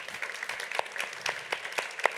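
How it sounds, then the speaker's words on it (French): Light, scattered clapping from a small audience thanking two panellists after a discussion on car-free, plane-free urban tourism, with a handful of distinct claps standing out over a soft background. "Merci à tous les deux, on vous applaudit."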